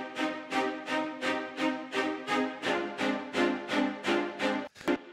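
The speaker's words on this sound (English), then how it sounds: "this one right here, spiccato," Sampled spiccato strings from a virtual string library, playing a steady run of about a dozen evenly spaced short bowed notes, close and moderately loud, with no talking.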